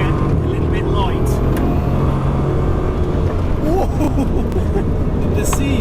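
Bugatti Chiron Pur Sport engine pulling hard at speed along a long winding coastal road, a steady loud roar with wind and road noise throughout, close onboard, with occasional faint speech in the cabin.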